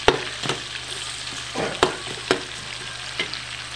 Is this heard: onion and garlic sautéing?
yes